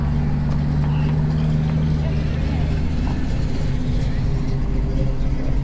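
A small-block V8 in a Chevrolet Nova idles at a swap meet, a steady low rumble with a lumpy, even throb that holds unchanged throughout and stays close and prominent.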